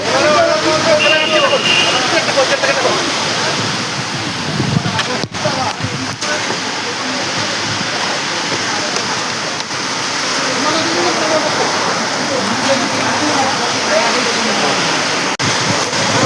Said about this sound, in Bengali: বৃষ্টি খুব জোরে হচ্ছে এখানে